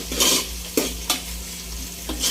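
Curry leaves dropped into hot oil in a kitchen sizzle and crackle steadily, with a few sharp spattering bursts and light stirring clinks, close and with no talking.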